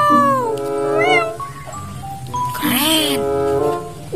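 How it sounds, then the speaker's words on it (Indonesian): Cat meowing inside the video game Jurassic World Evolution 2, a few drawn-out rising and falling calls, clear and close, mixed with game sounds. "lihat, ada satu ekor kucing teman-teman"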